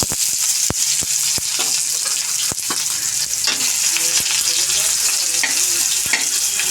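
Chopped onion and two dried red chillies sizzle steadily in hot oil, a loud continuous frying hiss broken by sharp scraping clicks of a spatula stirring the pan, with no talking.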